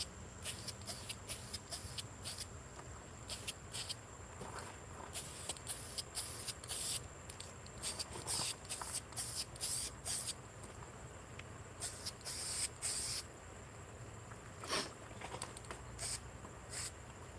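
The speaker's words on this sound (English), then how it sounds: "This has got some nozzle where you can turn it and spray this way, vertical or horizontally." An aerosol spray can with a turnable nozzle hisses in repeated short bursts of uneven length, close and fairly quiet, with pauses between them.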